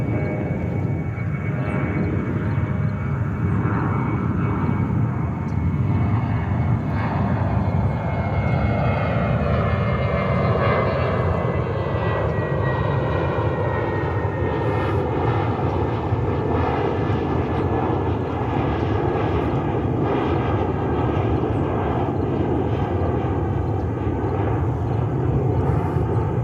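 A JetBlue airliner rolls down runway 13 right at JFK and climbs away, a loud, continuous engine roar whose pitch rises and sweeps upward as it accelerates, staying steady and strong throughout with no talk.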